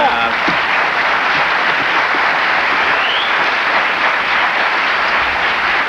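Dense, steady applause from a studio audience fills the whole stretch at a loud, even level, with a voice faintly underneath.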